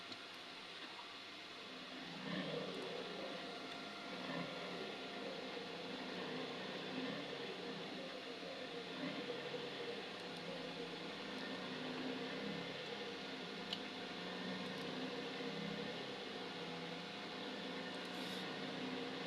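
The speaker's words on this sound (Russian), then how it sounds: "кондиционер дует" An air conditioner blowing inside a truck cab on a hot 30-degree day, giving a steady, even rush of airflow that holds unbroken from start to end with no voices.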